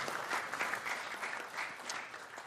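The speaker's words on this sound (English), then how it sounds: "I appreciate the applause." Audience applause at a clean transportation and clean energy summit, a steady wash of many hands clapping together, fairly soft and distant, holding even throughout with no voices over it.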